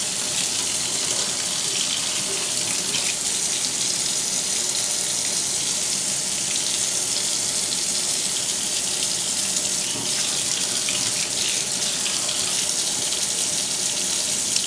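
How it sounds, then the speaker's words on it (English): Tap water runs steadily over makeup brushes to rinse the soap out, a continuous close splashing stream into a sink with no talking. "So we're going to rinse all that soap off."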